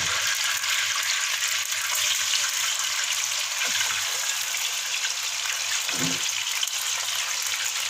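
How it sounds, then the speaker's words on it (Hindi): Chicken frying in ghee over high flame for a korma, a continuous loud sizzle and hiss with a couple of brief low clunks as it is stirred, no talking. "इसको फ्राई कर लेंगे जब तक कि इसका कलर चेंज ना हो।"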